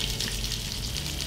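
Onion sizzling in hot oil in a pot, the starting point of a Vietnamese pho broth, a steady loud crackling fry heard alone for a moment.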